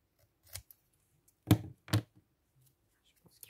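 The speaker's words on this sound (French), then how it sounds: "On va couper jusqu'à là." Scissors snipping paper for a panda-themed bullet journal spread: three crisp, close cuts, one short and then two louder ones about half a second apart, with near silence between them.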